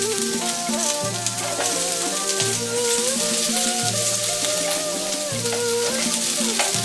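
Celery and onions fry in a tablespoon of cooking oil in a wok over medium heat for chicken chow mein, a steady broadband sizzle running under a prominent tonal musical backing throughout.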